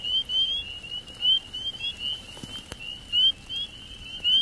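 A dense chorus of many small frogs calls all around at once, forming a continuous high trill with scattered louder pulses. It is fairly close and clear, with no voices.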